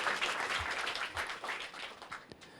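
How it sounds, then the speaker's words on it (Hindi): Audience applause in a school or board-exam talk setting, steady crowd clapping throughout, moderately loud and continuous with a few sharper claps near the end. "जोरदार तालियां हो जाए हमारे"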